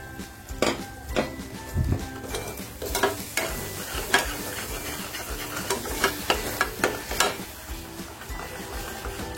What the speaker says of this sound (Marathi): मसाला छान फ्राय झालाय